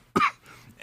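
A single short, sharp cough from a person, close and distinct, followed by faint background noise.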